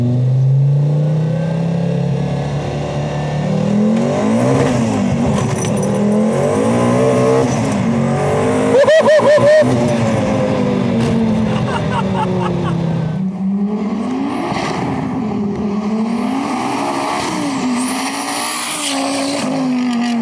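A loud, raspy 920-horsepower all-wheel-drive Audi Quattro five-cylinder engine revving and accelerating up close with an unmuffled straight-pipe exhaust, pitch rising and falling through repeated gear pulls.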